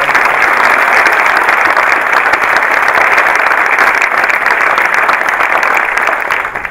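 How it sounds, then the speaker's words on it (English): Dense round of applause from an audience at an annual leadership talk with Anne Heraty, loud and sustained throughout, with many hands clapping steadily before it begins to fade at the very end. "please give a round of applause for us"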